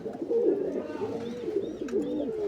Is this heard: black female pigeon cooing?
yes